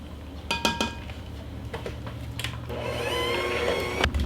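Butter and powdered sugar being mixed for frosting, with a few clinks of utensils against a bowl, then a rising whir of a mixer, close and moderate in level.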